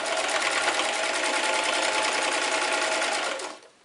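A sewing machine stitches a strap onto a fabric face mask, running in a steady, fast, even whir with no pause before stopping abruptly near the end.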